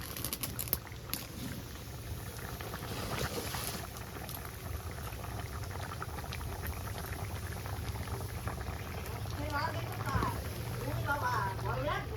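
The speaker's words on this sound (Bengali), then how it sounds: "তরকারি ফুটছে।" Curry with mustard, hilsa and eggplant bubbles steadily in a pot. The boiling is a dense, continuous, close burble, and a faint voice comes in near the end.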